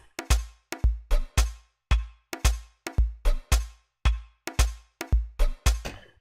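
Conga drum sample from an Amapiano beat, a series of about fourteen sharp, punchy hits with short decays in a steady syncopated pattern, loud and dry with no other sounds.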